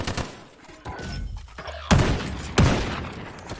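Gunfire from a gun in Call of Duty: a burst of rapid shots, then two loud, heavy blasts about a second apart, all close and with no talk over them.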